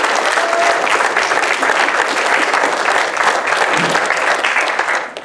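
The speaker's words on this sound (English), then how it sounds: "So please give a round of applause to give you all." A large audience at a senior send-off celebration breaks into loud, continuous applause, thick overlapping clapping filling the space nearly the whole time before easing slightly at the end.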